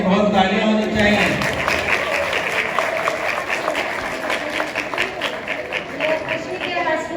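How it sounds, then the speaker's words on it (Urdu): An audience claps for a girl named Fatima at a school event in Shah Faisal Division, Korangi, Karachi; dense sustained applause with crowd murmur and a voice briefly heard at the start. "فاطمہ کے لیے بہت تالیاں ہونی چاہیے۔"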